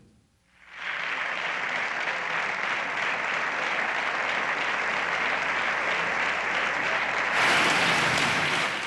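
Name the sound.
applause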